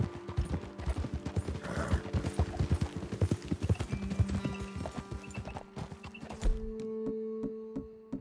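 Horse hooves clip-clopping on a trail in Red Dead Redemption 2, a close, rhythmic run of hoofbeats that slows and stops near the end, followed by a brief snort and quieter ambience.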